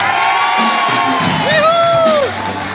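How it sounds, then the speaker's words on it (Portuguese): A crowd at a singer's live show in a shopping mall cheers loudly, with whoops and raised voices rising over a steady crowd roar. Clapping is not clearly distinct within the noise. "Agora, batam palmas pro meu amigo Leonardo."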